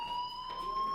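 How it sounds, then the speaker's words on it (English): Fire alarm ringing inside the Life Is Strange video game: a steady, piercing electronic tone holding without pause, loud and continuous across the whole moment with no talk. "do you hear that fire alarm?"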